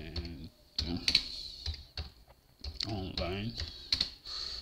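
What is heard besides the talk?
typing on a computer keyboard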